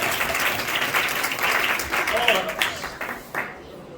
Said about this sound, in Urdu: اس مسیحا کے لیے زوردار تالیاں میں چاہتا ہوں۔